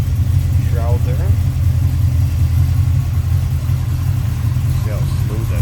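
A 1972 Oldsmobile Cutlass two-door with a fuel-injected 455 V8 idles smoothly close by, a steady deep low rumble that runs under someone talking throughout.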